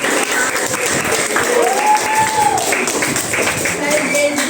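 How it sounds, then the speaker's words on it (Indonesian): A classroom of pupils applauds, steady clapping that fills the room while an adult voice speaks over it partway through. "Beri tepuk tangan buat kalian."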